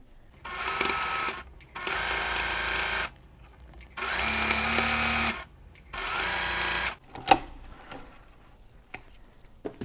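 A sewing machine stitches a quilt block seam in four even bursts of two seconds each, with short quiet gaps between them. The sound is loud and close, and faint clicks and handling noises follow at the end.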